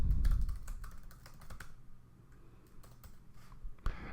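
Fingers type on a computer keyboard, a run of close, quick, irregular key clicks with short pauses, alone without any talking.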